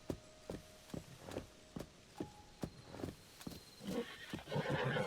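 A horse in a Zelda video game whinnies over a run of distinct clip-clop hoofbeats, the steps quickening and growing louder toward the end.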